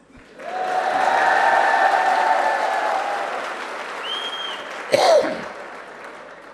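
An audience at a college event claps together in sustained applause that swells and then slowly fades, with a brief voice or sigh near the end.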